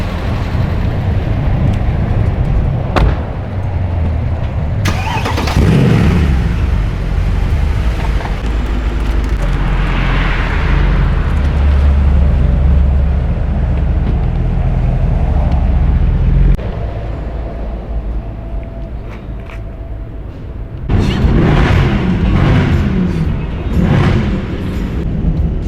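A Mercedes C63 AMG Edition 507 roars loudly through its exhaust in several bursts of revving that rise and fall, with a quieter idle-like stretch before a final series of sharp revs near the end.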